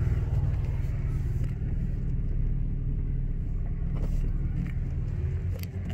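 A heavy dually pickup truck rolls slowly into a small driveway in Alaska, its low engine rumble steady and close, with faint bumps near the end.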